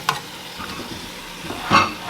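Potatoes stirred back into a hot pan for potato soup, a brief scrape and soft sizzle with a louder spoon clank near the end, close and without talk.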